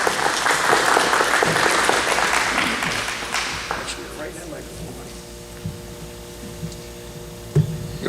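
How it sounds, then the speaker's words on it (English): Warm applause from a breakfast meeting audience welcoming a speaker, loud and dense at first, then thinning into scattered claps over a low room hum. "Ladies and gentlemen, warm round of applause and a great welcome for Mr."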